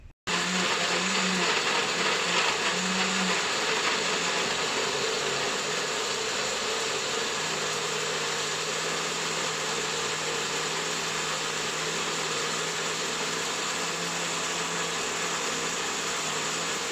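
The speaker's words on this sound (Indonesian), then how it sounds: "ini aku sudah mulai blender jambu bijinya ya" A Cosmos smart blender whirs steadily while blending guava with a little water into juice, a loud continuous motor drone that holds without pause, with a faint tonal hum running underneath.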